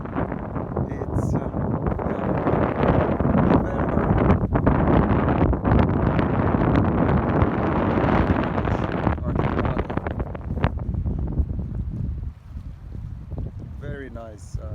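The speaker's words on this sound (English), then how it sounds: "It's a bit windy here" Strong wind gusts buffet the microphone outdoors beside a lake in Finland, producing loud continuous rushing and rumbling that eases toward the end, with possible faint voices underneath.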